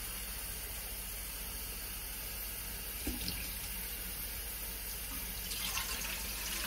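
Tap water runs steadily into a dollar-store measuring cup in a home kitchen, a continuous hissing stream with no talk, swelling slightly toward the end as the cup fills.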